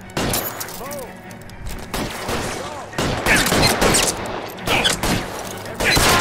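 Gunfire rings out in LA Noire: The VR Case Files, with loud, repeated shots in irregular bursts and volleys that echo over a few seconds, alongside other game sounds.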